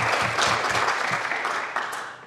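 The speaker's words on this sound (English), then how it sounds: "Let's have a round of applause for our commenters so far." An audience at a university symposium on transitional justice applauds the commenters, a dense burst of clapping that fades out toward the end.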